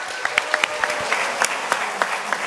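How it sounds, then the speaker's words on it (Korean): Audience applause at a book launch event, a short burst of scattered, fairly sparse hand claps in a hall, with a faint voice underneath. "여러분 커다란 박수 다시 한번"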